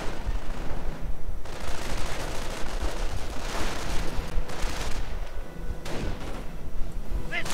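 Dense gunfire and grenade blasts in a WWII strategy video game battle between riflemen and grenadiers around a building, continuous crackling volleys with heavier thumps, fairly loud, with a commentator talking at times.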